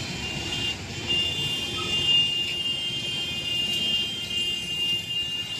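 Street traffic on a rainy day outside an office building, a steady continuous wash of road noise and engine hum at moderate distance with no talking.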